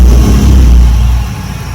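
A BMW E46 wagon engine idles with its MAF sensor removed, giving a steady, deep, close rumble with no other sounds.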